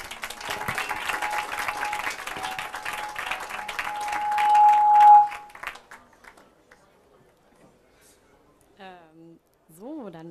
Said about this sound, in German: großen Applaus an Lino.